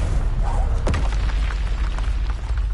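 A Confringo explosive spell goes off in the Hogwarts Legacy video game as a single sharp boom partway through, set against loud continuous low rumbling game noise.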